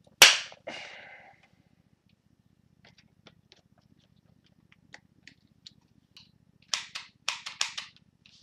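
A corner rounder punches the corners of a Star Wars cardback: one sharp loud snap, then scattered faint clicks and a quick cluster of crisp punches near the end, close and with no talk.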